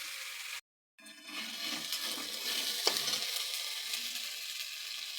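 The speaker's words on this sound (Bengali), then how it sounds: "মশলা দেওয়ার পরে আমি কষিয়ে নিচ্ছি।" Spice paste being fried down in a pan, with a steady sizzling hiss and soft stirring scrapes after a brief moment of silence near the start.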